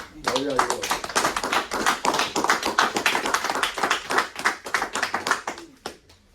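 A church congregation applauding during a Spanish-language service, dense rhythmic clapping from many hands close by, sustained for several seconds before tapering off near the end, with voices mixed in.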